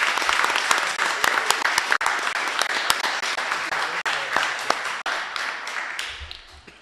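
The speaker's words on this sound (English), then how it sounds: "Please, a round of applause for Raquel Piazza, ESOL, Marlboro Middle School." Steady audience applause at a school board meeting for an ESOL teacher from Marlboro Middle School, dense continuous clapping that fades toward the end.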